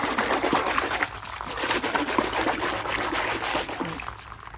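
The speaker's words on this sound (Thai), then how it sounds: "ตีน้ำแรงๆนะคะ ก็จะเป็นการเพิ่มออกซิเจนนะคะ เพิ่มอากาศเข้าไปในน้ำนะคะ" Water for hydroponic salad vegetables sloshing and splashing continuously as it is whipped hard by hand to add air, with a busy, churning rush throughout and no pauses.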